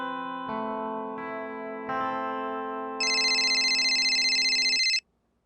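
An electronic telephone ringtone plays with stepped synthetic tones, then switches to a higher, steady electronic ring before stopping abruptly, with no talking.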